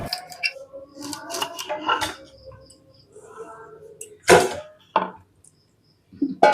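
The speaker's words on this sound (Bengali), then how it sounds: "রাফলি চপ করে নিলেই হবে" Long beans being roughly chopped with a knife on a board: a quick run of crisp cuts, then scattered louder chops, with some talking in between.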